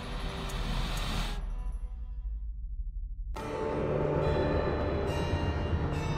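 Train rumbling along in an Alice: Madness Returns cutscene, a steady low rolling drone with metallic clatter and ringing tones, briefly dropping to a dull low rumble before the full clatter returns.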